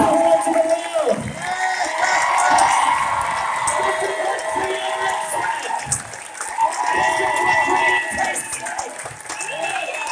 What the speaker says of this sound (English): give Sasha Stone a round of applause